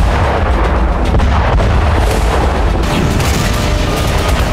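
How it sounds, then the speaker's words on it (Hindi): A Russian KH-38 cruise missile strike in Kherson sets off loud, continuous rumbling blasts and booms, dense and sustained like heavy artillery, with no voices. "खेरसॉन में रूस ने KH-38 क्रूज मिसाइल से धमाका कर यूक्रेनी सेना के ठिकाने को तहस"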